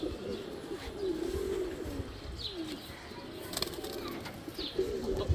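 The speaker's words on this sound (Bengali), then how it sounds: "এটা মাদি কবুতরটা" A female pigeon coos in a loft, a steady low rolling murmur running through the whole stretch with faint chirps and a brief flutter of wings near the end.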